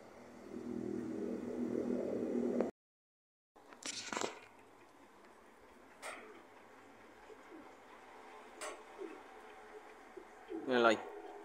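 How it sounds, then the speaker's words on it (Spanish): A pigeon, the offspring of a shop's male pigeon in Camagüey, coos softly in a few quiet phrases near the end, with scattered rustles and wing-like flutters in a calm, faint setting. "Ahí va la paloma."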